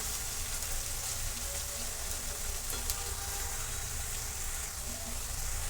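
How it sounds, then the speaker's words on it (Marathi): Green chillies fry with reddened onion in hot oil for spicy bheja fry, giving a dense, even sizzle that runs steadily throughout at close range. "मी आता ही मिरची टाकून घेणार आहे, हिरवी मिरची. देखील आपण व्यवस्थित भाजून घेणार आहोत."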